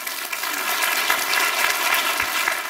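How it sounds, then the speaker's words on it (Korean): Applause from a lecture audience, with dense, continuous clapping that stays at a steady level and spreads evenly throughout, filling the room without any voices over it. "박수 한번 주세요."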